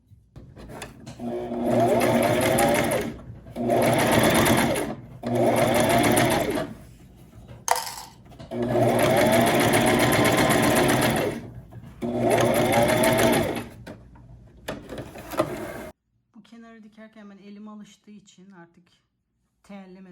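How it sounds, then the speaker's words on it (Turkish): A sewing machine stitches a round fabric placemat in several loud, close bursts of fast mechanical whirring separated by short pauses, with someone speaking afterward. "Şimdi iğneyle tutturduğumuz yerlerden dikiyoruz."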